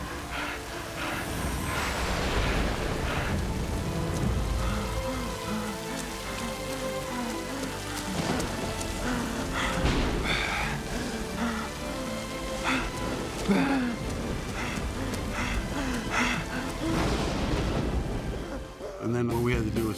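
Artificial rain pours from big rain rigs raised high over a film set, a dense continuous patter on surfaces beneath someone talking, with some machinery rumble in the background.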